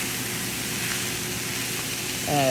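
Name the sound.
breakfast hash with salsa being mixed and cooked in a pan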